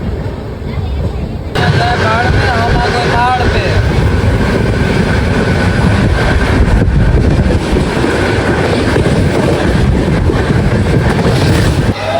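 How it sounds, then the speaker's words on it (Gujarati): A sleeper train rumbles along continuously with loud, steady low-end roar and rattling, wind buffeting the microphone throughout. "હા, ટ્રેન અમારી."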